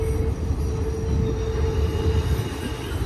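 A BNSF freight train rolls steadily through Cajon Pass, a continuous heavy rumble of wheels and cars with a faint high squeal running throughout, close and loud with no talk.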